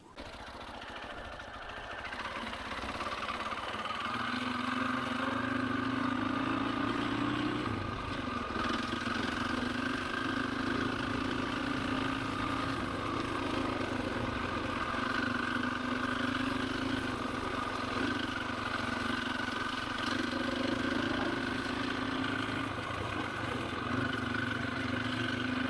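A KTM 525 EXC dirt bike engine drones steadily while riding along Devil's Pinch Road, a sustained mid-pitched hum with wind noise and slight pitch shifts, heard alone for the whole stretch.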